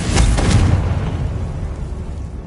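Confringo blasting spell from a Harry Potter magic-school video game: a couple of close, punchy explosive bursts at the start, then a low rumbling decay that fades steadily away.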